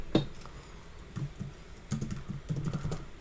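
Fingers tap out C++ code on a computer keyboard in short, uneven bursts of crisp clicks with pauses between, close and fairly quiet.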